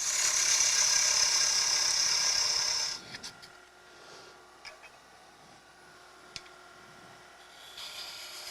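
A hand tool shaves the nib at the front of a wooden scoop: close, loud rasping scraping for about three seconds, then a quiet stretch of faint scratches and a few small knocks.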